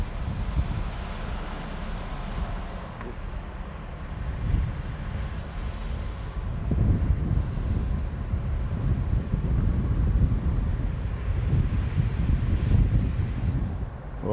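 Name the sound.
ocean breeze wind on the coast at Hana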